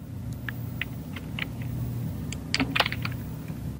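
Keystrokes on a computer keyboard while Bengali text is typed, scattered light clicks that come in a brief cluster near the end over a steady low hum from the room.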